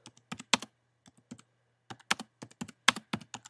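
Keys clacking on a computer keyboard in short irregular clusters with brief pauses between, crisp and close over a faint low hum, no voices.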